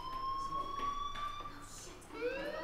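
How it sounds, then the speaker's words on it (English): A fire alarm sounds during a fire drill in the game Life is Strange with steady, faint electronic tones. A rising warble sets in near the end, and muffled voices run underneath. "do you hear that fire alarm?"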